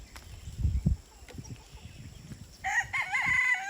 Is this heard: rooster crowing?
yes